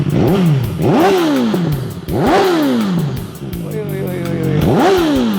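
A BMW inline-four motorcycle engine, the naked version of the S1000 RR, revs hard several times in a row, each sharp rising scream falling back to idle, loud and close.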